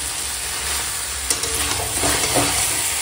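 Goat meat stir-fries in a pan for a Bengali kosha curry, a soft steady sizzle with a few light clinks and scrapes of a spatula stirring, fairly quiet and close.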